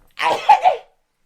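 A single sneeze, close and fairly loud, a short burst with a sharp double peak, alone with no talk around it.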